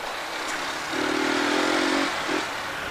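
Motorcycle engine pulling through a short steady rev of about a second, then a brief second blip, over constant road and wind noise during a wheelie-style ride.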